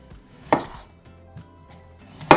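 A knife chops through floury potatoes on a board, cutting them into fry strips: two sharp, close thuds about two seconds apart, with a softer tap between them in a quiet kitchen.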